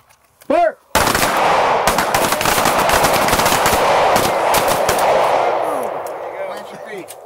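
Rapid handgun fire from a close retention shooting drill on an outdoor range, a long loud volley of overlapping shots from several shooters, preceded by a short shouted command.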